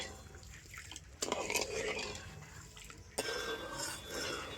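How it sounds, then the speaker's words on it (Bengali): A spoon stirs sugar and water in a pan to melt it, giving faint scrapes and light metallic clinks over a quiet room background. "আর এবারে আমি এইভাবে নাড়াচাড়া করে চিনিটাকে গলিয়ে নেব।"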